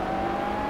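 A race car engine in the Project Cars video game holds a steady, loud high-pitched whine for a brief moment, sustained without a break.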